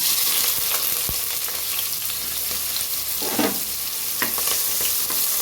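Oil sizzles and crackles steadily in a hot pan, a continuous bright hiss with a few louder spits, close by and with no voices.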